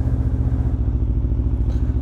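Loud motorcycle exhaust on an autumn ride, a steady low throbbing engine drone that carries on close up and without a break, with a faint clatter over the top.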